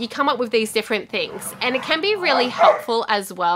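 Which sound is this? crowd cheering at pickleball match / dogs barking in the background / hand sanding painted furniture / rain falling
dogs barking in the background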